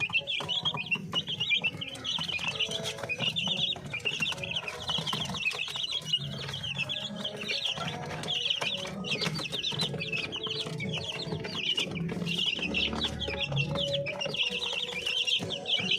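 Chickens and chicks on a Filipino poultry farm cluck and cheep continuously, several birds close by with overlapping calls and no talk.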